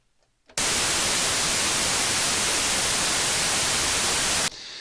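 Harsh broadband white noise from a synthesizer noise generator in Wavesabe bursts in abruptly after a short quiet lead-in, holds loud and steady for about four seconds, then cuts back to a quieter hiss.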